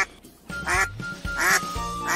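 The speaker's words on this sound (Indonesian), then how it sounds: "bebek," A duck quacks three times, each call loud, nasal and close, spaced about half a second apart, with nothing else heard.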